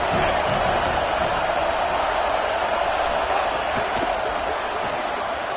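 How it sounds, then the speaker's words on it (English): A college football stadium crowd roars steadily for the defense on third down, a dense, loud wall of cheering that holds at constant volume throughout. "Decibels rising as the crowd gets behind this defense on 3rd down."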